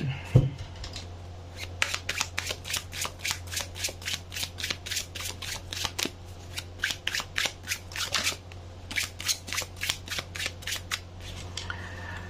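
A deck of slippery tarot cards is riffled and shuffled close up, a run of rapid crisp flutters repeated in bursts with brief pauses between them, with no talking.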